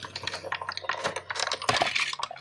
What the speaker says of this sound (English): My die cutter it does make some pops and spits every now and again.